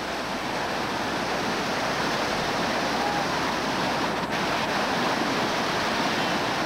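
Whitewater rapids on a river rafting trip at Fayette Station, a loud, continuous roar of churning water and surf with no break, filling the whole scene close up.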